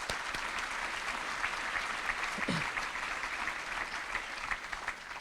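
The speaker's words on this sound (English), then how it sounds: "So please give them a round of applause." Steady applause from an audience at a public safety and community appreciation luncheon, a dense even wash of clapping that holds at a constant level throughout.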